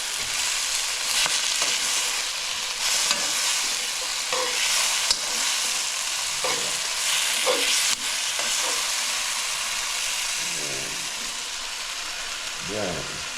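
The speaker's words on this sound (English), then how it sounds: "Put the tomatoes. Yeah, just put them in and stir them." Tomatoes sizzle and fry in a pot in a steady, close hiss while a spoon stirs them. Several scraping stirs stand out toward the end, and a voice speaks briefly now and then.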